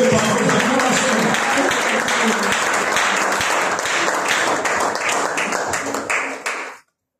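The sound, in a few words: church congregation applauding and cheering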